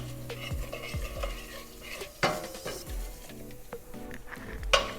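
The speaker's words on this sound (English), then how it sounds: "When the oil is hot, add 1 teaspoon of cumin seeds." Cumin seeds sizzle in hot oil under repeated scraping and clinking of a utensil against the pan, with several sharp metallic knocks standing out over the quieter frying hiss.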